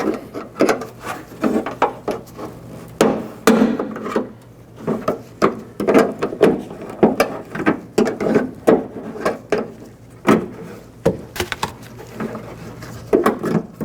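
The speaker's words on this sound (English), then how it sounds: "Just take a trim tool and just try to pry under here a little bit." A plastic trim tool pries at an interior trim panel of a 2003-06 Infiniti G35 during tail light replacement, giving repeated close clicks, creaks and scraping snaps in an irregular rhythm.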